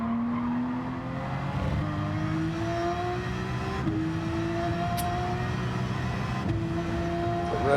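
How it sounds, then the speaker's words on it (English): The Red Bull Porsche GT2 race car in Gran Turismo 7 drones steadily with rising engine pitch through gear shifts, a constant loud game engine sound without any voices. "Red Bull Porsche was running beautiful at this point."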